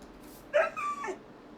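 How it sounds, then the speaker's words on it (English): Dog sound from the Minecraft video game: a single short yip-like whimper followed by a slightly longer whine, clear and close over a quiet background. "that's a normal dog sound"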